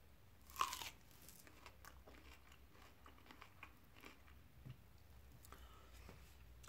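A crisp bite into a crunchy late-season plum, then quiet, soft chewing and faint crackles close to the microphone, with no talking.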